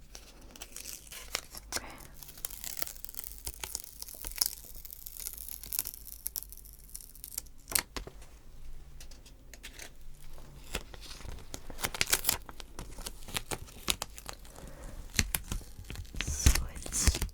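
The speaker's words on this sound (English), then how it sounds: "let me see if I can undo this sticker" A sticker is peeled off a measuring tape at close range in a quiet cosplay-shop setting, with soft crinkling, tearing and scratching sounds in irregular bursts, and a soft voice speaks briefly.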